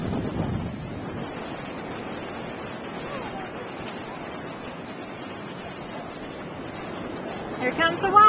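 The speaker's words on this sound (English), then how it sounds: "Here comes the water." Ocean waves wash onto a beach at St Augustine, a soft, continuous rushing surf with wind buffeting the microphone, fairly faint, and a voice begins near the end.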